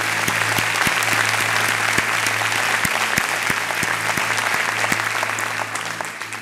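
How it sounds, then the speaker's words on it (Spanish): Congregation applauding during a church sermon, a steady burst of clapping from many people with a few sharp, close claps standing out, fading slightly toward the end. "Dale un aplauso al Señor."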